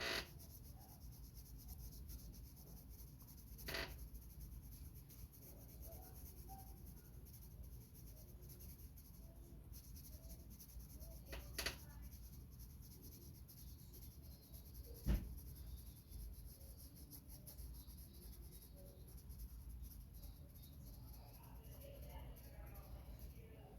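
Pencil strokes drawn with very light pressure while shading a red-winged ladybug, a soft continuous scratchy rub with a few sharper ticks, quiet and close.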